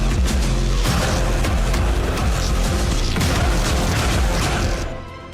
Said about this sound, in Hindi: बारूदी धमाके से चीनी जवानों के